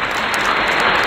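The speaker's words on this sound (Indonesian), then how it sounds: "Tepuk tangan sekali lagi." Guests at a film premiere for Bad Boy in Love applaud, a brief, continuous wash of clapping heard close and loud.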